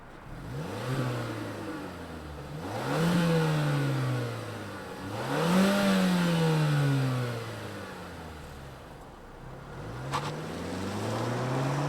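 A 2024 Mazda 3 Turbo sport compact hatch revs its engine in a series of rising and falling blips, each surge climbing then dropping back toward idle, loud and close with no talking.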